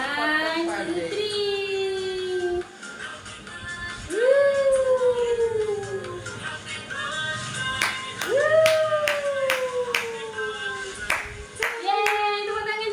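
Hands clapping at a home birthday celebration, sharp claps scattered through the middle and end, mixed with a dog's rising howls and people talking and singing nearby.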